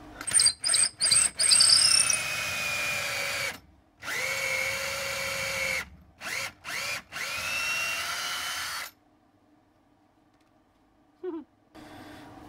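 A power drill bores holes in a custom Rebellion V guitar body, with several close, loud whirring bursts of varying length, brief start-stop pulses and a longer steady run, then quiet with a faint knock.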